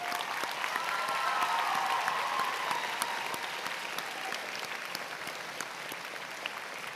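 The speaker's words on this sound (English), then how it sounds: "Let's give them some applause today." At a secondary school graduation ceremony, an audience applauds in a large, sustained wash of clapping, fullest at first and easing slightly, with a few whoops over it.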